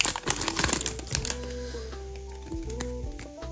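A Pokémon booster pack being torn open, a burst of loud crinkling and ripping foil up close, then quieter rustling with a tonal hum underneath.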